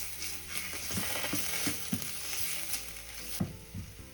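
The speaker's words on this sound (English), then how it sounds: "Stir to make sure that the garlic and ginger doesn't catch on the bottom of the pan." Onions, garlic and ginger fry with a steady hiss in a pan for jollof rice, broken by repeated scraping stirs every half second or so, with no voices.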